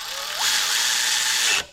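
A ratchet wrench spins bolts into a heavy-haul truck engine during an oil cooler and compressor install, giving one close, rapid, continuous clicking run of under two seconds with no talk.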